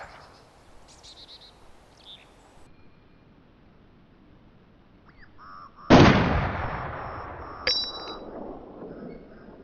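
AK rifle fire in the game DayZ: after quiet ambient seconds with faint chirps, one loud sharp shot cracks and echoes out, followed by a second, smaller report with a metallic ring.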